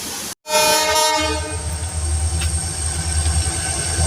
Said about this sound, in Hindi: और ये ट्रेन आ रहा है, ये दूसरा टनल है यहाँ का। ये भी गुड्स है।